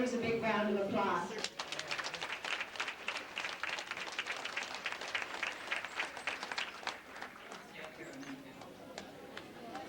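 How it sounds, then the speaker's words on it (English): An audience at a 1995 holiday parade awards event claps in sustained, fairly distant applause for several seconds, following a voice and easing off as speech resumes. "deserves a big round of applause."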